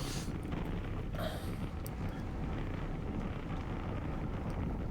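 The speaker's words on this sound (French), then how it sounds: "on se prend le vent un petit peu de côté" Strong crosswind buffeting a microphone while cycling in a road race group in Normandy, a steady loud rumbling roar filling the whole clip with no speech.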